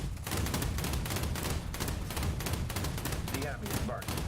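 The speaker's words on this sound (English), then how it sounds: "Machine gun sounds could use a little bit of work though." Naval machine guns on a ship in War Thunder rattle in a continuous, rapid stream of close, loud, sharp bursts, thin and crackling like firecrackers, with no voices over them.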